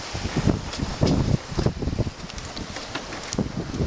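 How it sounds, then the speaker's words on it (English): Strong wind buffeting a microphone aboard a sailboat in the Solent, gusty low rumbling bursts with rustling noise throughout and no voices. "The wind's come out!"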